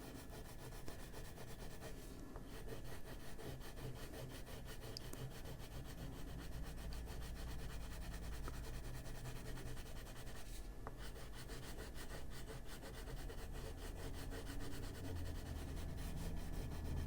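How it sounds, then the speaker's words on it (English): A colored pencil rubbed back and forth on paper to blend color in an adult coloring book, a faint, continuous, close scratchy rubbing with an even rhythm. "I'm just going to take it and rub it on there"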